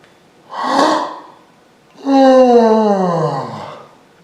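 A person yawns audibly and close by: a short breathy inhale followed by a longer, louder drawn-out yawn with a falling voiced tone, with no speech.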